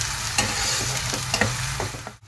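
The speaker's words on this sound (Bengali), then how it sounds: "পেস্টটা ভালো করে ভেজে নেব যতক্ষণ না এর থেকে কাঁচা গন্ধটা দূর হচ্ছে" A spice paste fries in a hot pan for egg lababdar, giving a loud continuous sizzle broken by several scraping stirs of a spatula, no voices.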